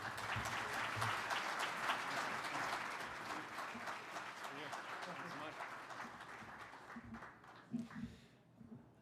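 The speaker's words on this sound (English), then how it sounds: "How about another round of applause for Nick?" Sustained applause from an audience at a civic dinner, a broad wash of many hands clapping that slowly thins out, with a few voices surfacing as it fades.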